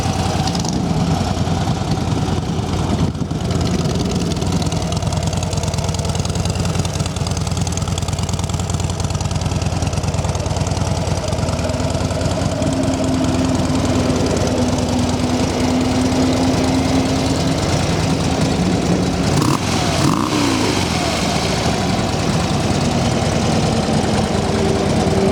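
A low-mileage Harley-Davidson Dyna Wide Glide FXDWG with factory exhaust idles steadily and fairly quietly up close, a continuous low rumble with slight revving swells.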